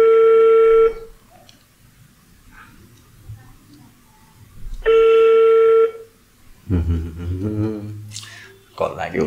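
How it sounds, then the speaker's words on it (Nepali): A telephone call being placed: two long, steady electronic tones about a second each, separated by a quiet gap, followed by a person talking close to the microphone. "आजको तेस्रो कल हामी लगाउँदैछौँ"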